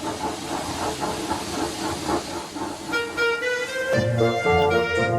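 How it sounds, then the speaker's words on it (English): Cartoon-style steam locomotive effect with rhythmic chuffing and steady hissing steam, loud and close, followed by a sustained whistle-like toot toward the end with no talking. "Thomas chuffed and puffed as fast as he could."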